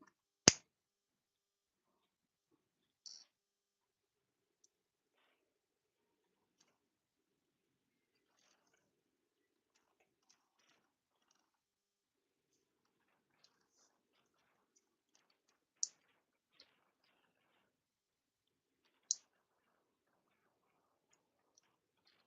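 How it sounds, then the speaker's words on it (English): Plastic parts of a Blokees Transformers Defenders figure give off a handful of sharp, faint clicks, spaced irregularly across long stretches of near silence. "that clicking sound is really satisfying"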